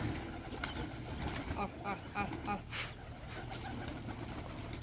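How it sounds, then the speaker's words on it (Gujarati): Pigeons on a rooftop, low cooing with a few quick flaps of wings, close and fairly quiet, with a voice talking faintly over it. "અહીંયા ઉપર કબૂતર આ બધા"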